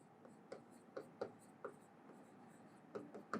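Pen strokes on paper while taking notes in a physics lecture on projectile motion: a series of short scratchy taps and strokes, close and fairly soft, in an irregular rhythm over a quiet background.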